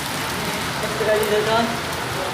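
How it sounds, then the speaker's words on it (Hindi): Heavy rain pours steadily in a broad, continuous hiss of drops on surfaces, loud and close, with a voice briefly speaking over it. "गाइस काफ़ी बारिश हो रहा है तो भीग गए"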